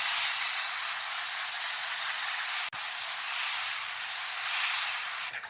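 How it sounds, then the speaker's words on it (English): Car cleaning spray sealant misted from a trigger bottle onto a BMW X135i, a close, loud, continuous hiss broken by one brief pause midway before resuming and cutting off. "Spray that on."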